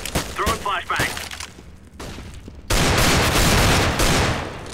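A flashbang grenade in the video game Counter-Strike GO during a competitive match, a sudden loud burst that turns into a sustained harsh roar, preceded by game noise and a voice talking.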